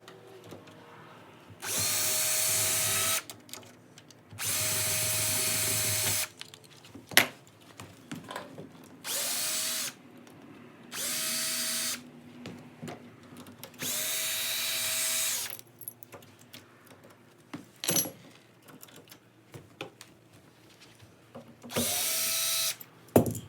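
A power drill backs bolts out of a door handle and lock cylinder, running in several short whirring bursts of a few seconds each, separated by pauses with small clicks and handling noises.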